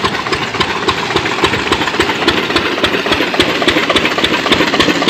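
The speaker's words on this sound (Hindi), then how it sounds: "ये इंजन" A borewell pump engine running on farmland, pumping water out to irrigate the fields, a loud, close, steady rhythmic chugging that carries on without a break and with nobody talking.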